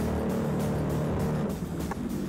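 A 2017 Sea-Doo GTI jet ski's engine runs in reverse, a steady close droning hum with a slight dip and recovery near the end, heard alone.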